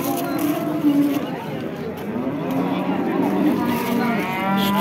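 Cattle low and moo at a livestock market in Baliqchi, Andijan region, with a young barren cow among the animals; the calls are drawn-out and loud, rising over steady crowd chatter and people talking nearby.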